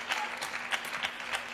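A coach claps his hands courtside at a WTT US Smash 2025 table tennis match between Wang Chuqin and Iulian Chirita, a run of sharp, fairly regular claps over faint hall ambience.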